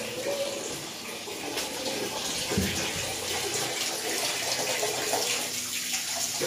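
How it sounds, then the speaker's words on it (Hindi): Water runs from a hot water tap fed by an electric geyser line just after a valve is opened, a steady rushing flow with a brief thump partway through. "अब गर्म लाइन में दोस्तों पानी"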